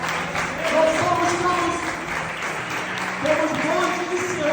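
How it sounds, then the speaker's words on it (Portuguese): A church congregation applauds during a sermon, producing a continuous, fairly loud clapping texture with a voice speaking over it the whole time. "Jesus merece mais uma salva de palmas para nós"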